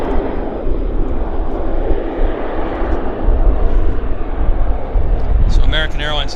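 An airplane at Vancouver Airport, either a Q400 turboprop or an American Airlines jet, roars steadily and fairly loud throughout, with a brief higher tonal whine near the end.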